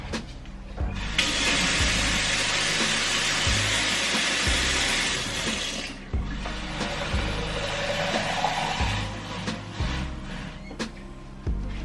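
Water pours into a blender jar holding a cup of oats, a broad steady rushing hiss that lasts several seconds, drops off, then resumes more faintly over a low background hum.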